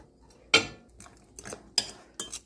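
Microwaved eggs stirred in a dish, four or five distinct clinks and scrapes of a utensil against the dish, spaced irregularly over near silence.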